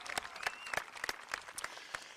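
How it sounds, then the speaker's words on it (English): A graduation ceremony crowd at Bethpage High School gives light applause, faint and somewhat distant, with sparse individual claps pattering across a quiet hall. "So please clap and applaud whenever you want."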